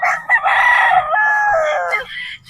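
A gamefowl rooster among Gilmore Hatch and Boston Roundhead birds gives one loud, close, drawn-out crow lasting about two seconds, with brief clucks around it.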